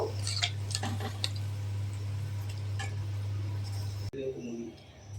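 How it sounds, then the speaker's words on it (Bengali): A lid is set onto a cooking pot of jackfruit and potatoes simmering in water, a single clink near the end, preceded by light clatter of cookware over a steady low kitchen hum. "এবার ঢাকনা ঢেকে দেব।"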